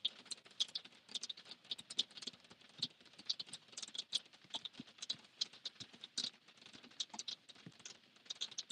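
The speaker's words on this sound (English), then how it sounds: "It's raining, guys." Rain falls in Los Angeles traffic as a car drives through, making faint, irregular pattering taps that continue unevenly throughout.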